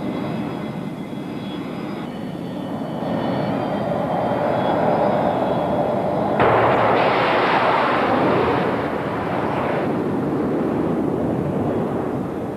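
A jet aircraft is catapulted off the deck of an aircraft carrier, a loud sustained engine roar that surges abruptly partway through and holds steady as the plane accelerates, with no voices.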